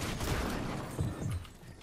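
Dense rifle fire crackles continuously through a Fortnite match, loud and sustained with overlapping shots and no clear gaps.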